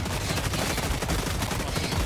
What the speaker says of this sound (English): I'll shoot right now.